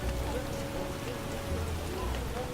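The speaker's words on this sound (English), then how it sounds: "A real downpour." Steady rain pours down during a downpour in The Witcher video game, a continuous dense hiss filling the scene, with a faint tonal game sound running underneath.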